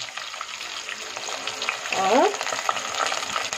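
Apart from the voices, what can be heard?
whole garam masala spices sizzling in hot oil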